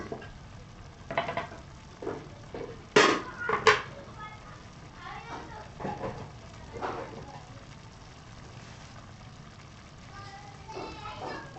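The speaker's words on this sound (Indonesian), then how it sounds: "Makanya sibuk membereskan bekas masak saya sendiri" Dishes and pots being cleared in a cluttered home kitchen after cooking, scattered clinks and sharp knocks coming in bursts, loudest near the start and thinning out, with a voice talking at times.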